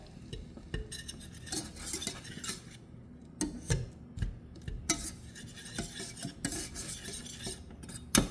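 A roux stirred in a pot for chicken and wild rice soup, giving a continuous soft scraping and swishing of a utensil against the pan with occasional light metallic clinks, close and fairly quiet, with no talking.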